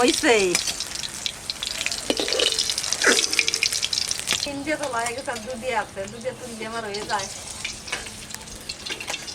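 Pond-fresh koi fish with roe fry in a pan for a koi-and-eggplant curry, giving a loud, continuous hissing sizzle with bursts of spatter, partly under a voice speaking.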